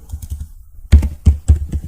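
Keys clatter on a computer keyboard while a query is entered in MySQL Workbench, a few soft taps followed by four sharper, louder keystrokes in quick succession, close up and with no speech.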